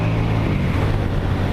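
Exhaust roar from a Comet GTR motorcycle fitted with an aftermarket exhaust, a steady loud low rumble that runs without a break, with no talk over it.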